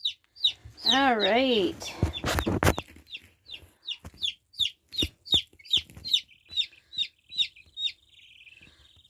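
Newly hatched chicks in a brooder box give a run of high, rapid cheeps, close and fairly loud, with a brief stretch of handling noise and a short spoken word early on.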